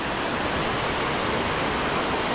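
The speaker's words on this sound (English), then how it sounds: "at the falls, Cambugahay Falls, Siquijor" Cambugahay Falls on Siquijor in the Philippines pours in a steady, dense rush of falling water, close and continuous with no voices over it.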